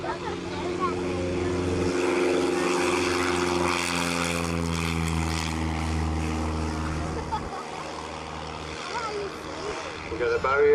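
A Cessna 152 propeller plane flying overhead at an air show at Elvington, a former RAF satellite airfield in Yorkshire: a loud, sustained droning engine note that swells and holds as it passes, then eases slightly.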